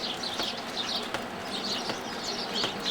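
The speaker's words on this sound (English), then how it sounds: "The birds are happy." Birds chirp and twitter steadily in a snowy yard on Christmas Day, with soft repeated calls and faint fluttering over a quiet outdoor hush.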